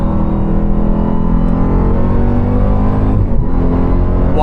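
A supercharged 710-horsepower 2026 Dodge Durango Hellcat SUV accelerates hard with its 8-speed ZF gearbox, producing a loud, continuous engine roar with layered whine, heard close from inside the cabin.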